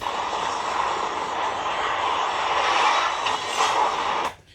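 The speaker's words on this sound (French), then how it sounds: "Il vient mettre pleine post-combustion, puis tirer sur le manche." A fighter jet roars at full afterburner in a Top Gun 2 movie trailer. The loud, sustained, rushing roar holds for about four seconds, then cuts off abruptly.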